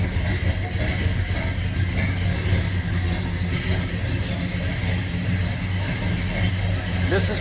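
A 1972 Oldsmobile Hurst's 455 big-block V8 runs at a steady idle, close by, giving a deep, continuous rumble with no obvious revving.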